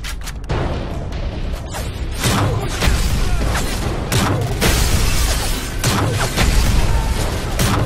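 Repeated heavy grenade blasts and debris crashes during a Call of Duty: Modern Warfare 3 firefight in ruined New York, loud and close, with booms spread across several seconds and no talk.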